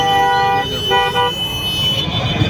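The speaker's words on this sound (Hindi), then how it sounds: "ट्रैफिक इतना ज़्यादा है कि बता नहीं सकते, हर जगह ट्रैफिक" Busy street traffic in Jaipur during a Muharram procession, with a sustained car horn or alarm-like tone sounding loudly over a constant road rumble and crowd murmur.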